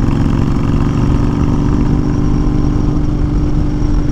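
A 2020 Honda Fury motorcycle with aftermarket pipes cruising at 55 mph in fourth gear, a loud, steady low engine drone that holds constant throughout without a break.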